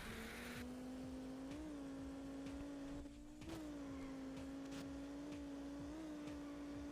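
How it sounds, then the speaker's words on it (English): A Dodge Viper engine in the racing game Juiced 2 holds a steady, buzzing high-rpm drone with brief rises in pitch and one short drop-off partway through. It plays alone, without talk. "It's got a truck engine, does it?"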